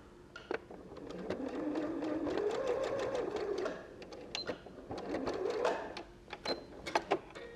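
A sewing machine stitches across the ends of a fabric dog bow tie collar, running in two steady close whirring bursts with a pause between, then a few scattered mechanical clicks.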